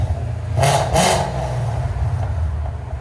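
A 2016 Ford Mustang GT with a 5.0L V8, aftermarket headers and a Valvetronic exhaust idles with a deep rumble, then takes two quick, loud throttle blips in succession before settling back to a burbling idle, close to the exhaust.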